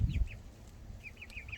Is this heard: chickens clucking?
yes